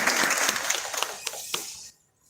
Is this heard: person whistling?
no